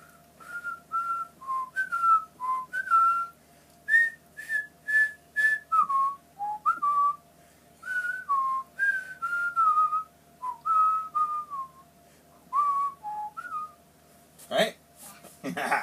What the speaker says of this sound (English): so that was the Empire song. That was from the Empire Strikes Back. That was the intro of it.